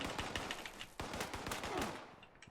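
Rapid gunfire from a combat rifle in the video game Fallout 76, a quick series of sharp cracks in bursts, fairly loud and dense throughout with no talking.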